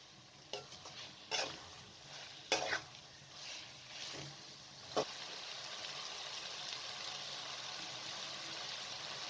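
Potatoes, green chillies, coriander and onion stirred in a pan for zeera aloo: several spaced spatula scrapes and knocks over a soft sizzle, then a steadier gentle frying hiss, fairly quiet.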